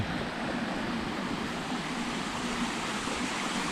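Balagbag Falls in Real, Quezon: a waterfall's constant rushing roar fills the air, steady and loud with no breaks or voices.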